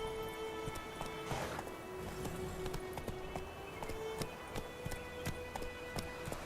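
Roach the horse galloping in a game, a steady rhythmic clip-clop of hooves at a quick pace, fairly quiet and continuous over a low ambient drone.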